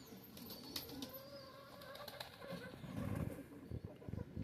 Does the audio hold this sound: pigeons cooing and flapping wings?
yes